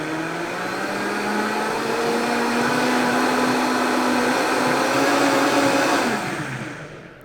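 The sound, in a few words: blender blending a coconut water smoothie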